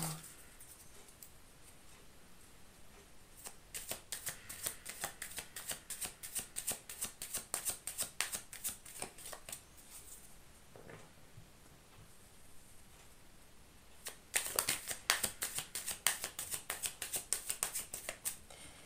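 Oracle cards are shuffled in quick bursts of soft, crisp riffling clicks, close but faint, with a quiet pause between two runs.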